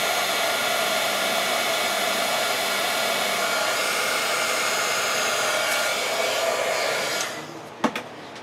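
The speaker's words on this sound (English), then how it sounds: "we're just going to quick heat set that" A heat tool sets freshly stamped ink on a Christmas card with a steady, loud, hair-dryer-like blowing roar that runs unbroken for about seven seconds, then cuts off, leaving a brief click and quieter room sound.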